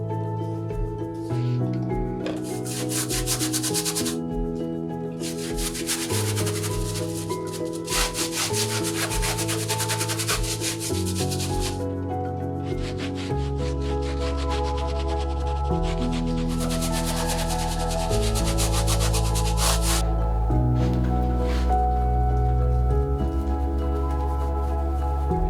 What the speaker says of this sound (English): Time to rub it all over the surface, and we'll wipe it back with a damp cloth